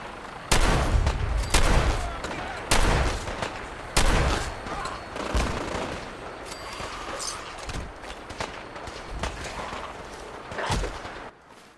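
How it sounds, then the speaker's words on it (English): Fallout 4 gunfire: loud, sharp shots and short bursts ring out close by at irregular intervals, each trailing into echoing decay, with a stretch of quieter scattered shots between. "I don't know who I'm supposed to be shooting."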